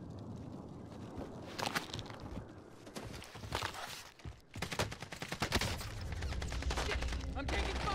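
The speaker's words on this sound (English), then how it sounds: "I'm taking fire" Gunfire in the Call of Duty Warzone battle royale, with a MAC-10 among the weapons, crackles in dense bursts and rapid volleys throughout, mixed with game effects and loud, busy action.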